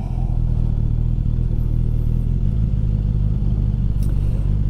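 Suzuki Katana 1000 (2021), roughly 150 horsepower, engine droning steadily while being ridden, a loud constant low rumble with wind noise and no talking.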